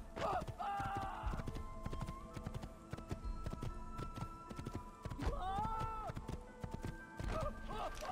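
Horse hooves clip-clop steadily at a quick trot in Assassin's Creed, close and rhythmic throughout, with the horse whinnying and snorting a few times over the beat.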